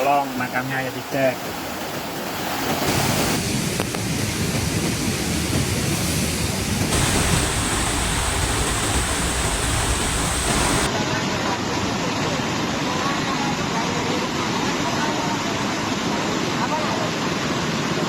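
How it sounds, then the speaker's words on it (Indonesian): Flash-flood water from an overflowing river in Jember, East Java, rushes as a continuous loud broadband roar, like a torrent, with voices partly audible beneath it. "Banjir bandang melanda Jember. Sungai meluap, jembatan putus."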